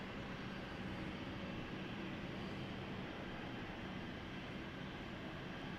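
A BA CityFlyer airliner at London City Airport gives off a steady, continuous engine roar that holds at the same loudness throughout, with no pauses, dips or talk.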